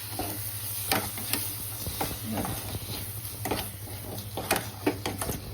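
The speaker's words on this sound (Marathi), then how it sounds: "हे सगळं दही घातलं आणि आता हे छान परतून घेणार आहे." Yogurt being sautéed with potatoes in a pan over low heat for dum aloo, a soft continuous sizzle broken by repeated spoon scrapes and stirring clicks, close and without speech.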